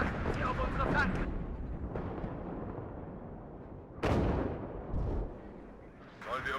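Cluster rocket artillery fire in WARNO, heavy booming launches and rumbling blasts that swell and fade, with a few strong bursts standing out, while voices talk over the battle.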